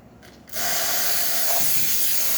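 A freshly serviced Quick Mill espresso machine's steam wand opens with a sudden loud hiss after a brief quiet moment, then holds a strong, steady rush of steam to the end.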